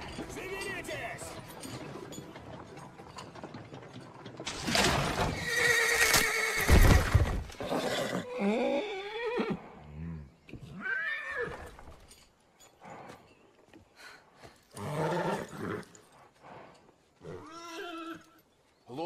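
A horse neighs loudly in a long, shrill whinny near the middle of the stretch, with hoof clatter and voices around it before and after.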